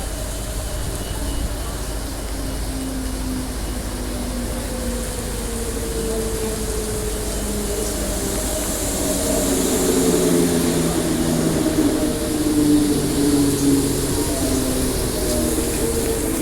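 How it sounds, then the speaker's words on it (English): A final Midland Line train bound for Perth arrives at Bayswater Station, its steady engine and motor drone growing louder with rising and falling tonal whine as it approaches, loud and close throughout. "Last Midland Line Perth bound train."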